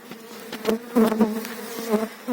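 Honeybees buzz close by during a spring hive inspection, their droning hum rising and falling as individual agitated bees fly past in quick bursts.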